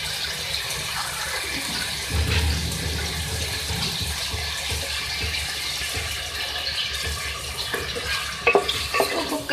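Chicken balti with chicken and two medium tomatoes cooks in a pan after water is added, giving a steady, close sizzle and bubbling with occasional stirring scrapes and no talking.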